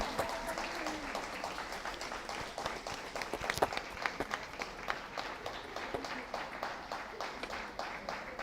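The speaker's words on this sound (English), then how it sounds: "Let's continue clapping." Audience applause at a school awards ceremony, steady dense clapping from a large crowd that fills the whole stretch at an even level with no speech over it.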